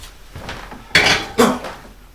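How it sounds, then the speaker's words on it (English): A pot is set down on a kitchen stove, two close clanking knocks of metal on metal heard alone, without talk. "So let me go ahead, and I'm going to put this over on the stove."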